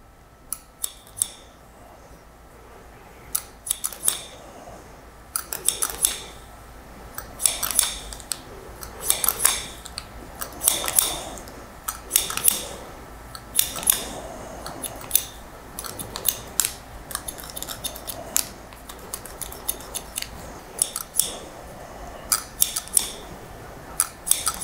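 Scissors snip through hair during a 90s-style men's haircut, the metal blades closing in quick bursts of crisp, close clicks with short pauses between runs, steady and repeated throughout with no talking.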